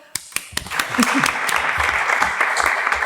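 An audience at a university round-table discussion applauds, a few sharp early claps swelling into steady moderate clapping from a small room, with faint talk underneath.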